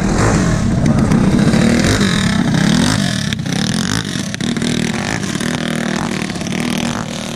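A 5k Laker minibike engine revs loudly and close at a race track, a rough buzzing drone that rises and falls without a break.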